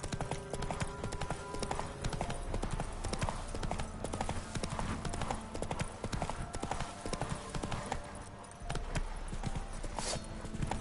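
Galloping hooves of the horse Roach in The Witcher 3 video game, a fast continuous clip-clop rhythm that runs loud and steady with a brief dip near the end, over a low ambient rumble.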